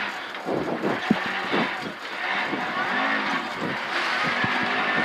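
Rally car on a snowy stage at the 2019 Sno*Drift rally, its engine revving hard and tires scrabbling as it slides through a turn, loud and close throughout, with a co-driver's voice reading notes over the noise.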